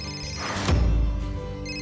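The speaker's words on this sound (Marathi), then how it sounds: "अहो फोन" A phone rings at home with a steady electronic ringtone, a sustained tonal chime playing on, fairly loud and close, with a soft thud partway through and no speech.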